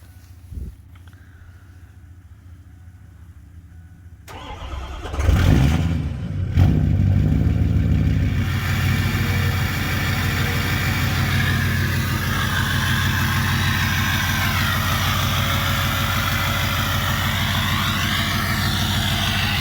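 A 2006 Ford F250 with the 6.0 Powerstroke diesel and a cold air intake cranks briefly, catches with a clattery burst, then settles into a loud, steady diesel idle that runs on evenly.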